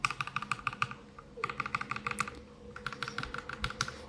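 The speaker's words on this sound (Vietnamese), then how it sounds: "Cảm giác khi mà gõ nó không bị chông chênh, nó rất là vững chãi, chắc chắn." Typing on a keyboard fitted with Virtual War PBT Cherry profile keycaps gives rapid, crisp, close clacks in quick bursts with short pauses, heard alone.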